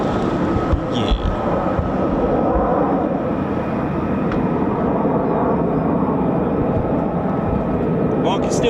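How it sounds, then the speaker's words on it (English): USAF 48th Fighter Wing F-35A Lightning fighter jets fly near the base, producing a continuous, heavy jet rumble that stays steady and fairly loud from start to finish, with a brief sharp noise early on. "I can still hear more F-35s"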